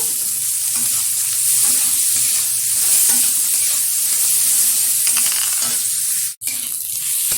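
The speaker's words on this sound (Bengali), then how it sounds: "দিয়ে দিচ্ছি কুচিয়ে রাখা পেঁয়াজ। পেঁয়াজটা লাল লাল করে ভেজে নেব।" Chopped onions sizzle steadily in hot oil with garlic for a mutton curry, a close, continuous frying hiss that briefly cuts out near the end.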